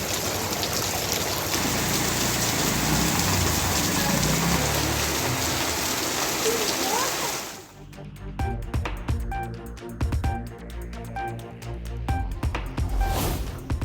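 Heavy rain pouring in the southern suburbs of Chennai, a steady dense roar of rainfall that shifts midway to closer, sharper drips and splashes on surfaces, with no voices.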